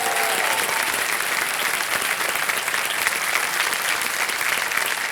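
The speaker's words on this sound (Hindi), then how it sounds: "एक बार तालियां बज जाए इनके लिए।" A studio audience on a TV quiz show claps for a contestant, a thick, continuous wash of applause that holds steady throughout, loud and close with a few faint cheers mixed in.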